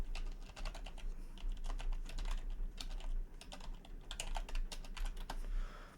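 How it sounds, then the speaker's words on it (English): Rapid clicking of keys on a computer keyboard while entering a trivia game answer, a close, quick run of irregular taps with brief pauses between bursts and a low hum underneath, no talking. "Perfect typing."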